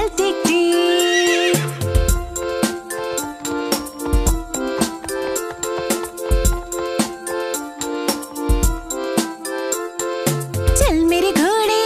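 Horse neighs and clip-clopping hoof sounds set inside a Hindi children's song about a trotting horse, the effects recurring loud and clear over steady music with sung melody throughout.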